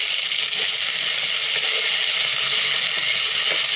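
Chopped tomato and capsicum fry in a pan for a raw banana and egg korma, giving a continuous bright sizzle with faint stirring scrapes, close and steady with no talking.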